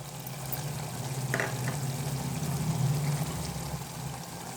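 Tomato and flat-bean gravy bubbles steadily in a pan, making a soft, continuous simmering sizzle with a brief stir-like clink near the start.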